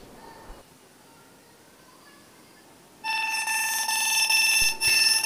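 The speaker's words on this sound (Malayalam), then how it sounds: "ഈ അലാറം നിൽക്കണമെങ്കിൽ നമ്മൾ പിന്നെ അടിച്ചിട്ട് അൺലോക്ക് ചെയ്യണം" An anti-theft alarm rings out loud and steady from an Android phone after it is pulled from a pocket, starting abruptly after a quiet stretch and continuing with a harsh electronic tone.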